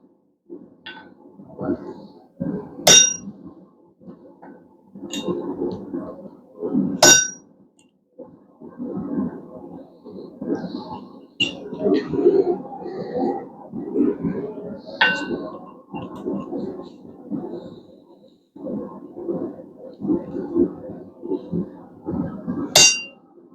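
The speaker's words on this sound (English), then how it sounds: "we're going to start making our chisel marks" Sharp ringing hammer blows on a chisel driven into hot steel while forging a bottle opener, struck in small clusters of loud metallic clangs, with a person talking in between.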